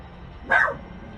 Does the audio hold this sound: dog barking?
yes